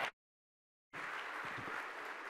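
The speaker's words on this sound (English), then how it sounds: "If you'll help me give him a round of applause." Audience applause at a county State of the County chamber event, a steady broad wash of clapping that starts after a short silence and holds evenly to the end.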